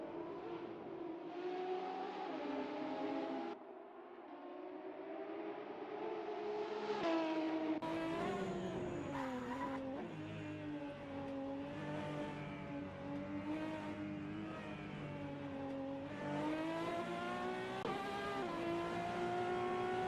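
Race cars in an SRA Vivid IT Procar Series qualifying session, engines revving hard with rising and falling pitch through gear changes, loud and sustained with brief lifts and a pass-by.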